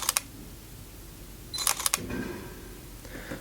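Sony A7R camera shutter clicks: a quick double click, then a burst of three or four rapid mechanical snaps, each crisp and close, separated by quiet room tone.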